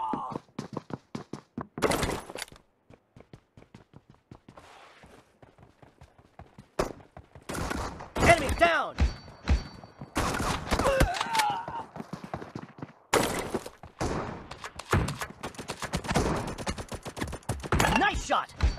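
Rapid bursts of gunfire from the battle royale mobile game BGMI in a gun game mode, with sharp shots in quick clusters and spaced volleys, fairly close and loud, mixed with other game sounds.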